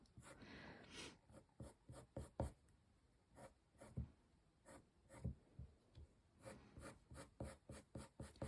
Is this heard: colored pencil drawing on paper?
yes